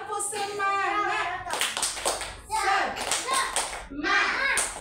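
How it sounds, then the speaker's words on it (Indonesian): Children in a classroom lesson perform a spirited chant-and-clap routine, voices calling out in rhythm before bursts of sharp, close group clapping that come in quick repeated clusters. "Tepuk semangat"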